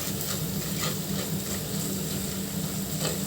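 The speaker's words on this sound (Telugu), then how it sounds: "మసాలా అంతా బాగా ఫ్రై అవ్వాలండి." Masala spices fry in a hot pan with a steady, close sizzle and occasional stirring scrapes throughout, with no talk.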